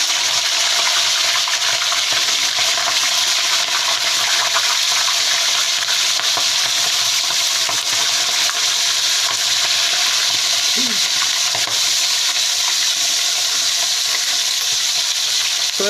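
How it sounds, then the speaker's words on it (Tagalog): Pork ribs fry loudly in preheated cooking oil, a dense, constant sizzle that stays strong and close throughout with no speech. "piprituin na natin"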